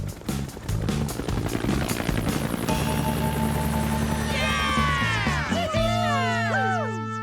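Cartoon helicopter flying and landing: a steady, loud rotor chop with a droning engine hum, then a whistling whine as the rotor spins down and winds to a stop.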